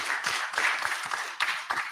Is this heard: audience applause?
yes